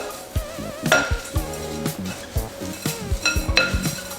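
Granola ingredients tossed together in a bowl, with a steady run of close clinks, knocks and scrapes of utensil against the bowl, loud and fairly rhythmic with no talking.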